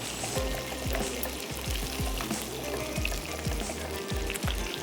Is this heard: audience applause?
no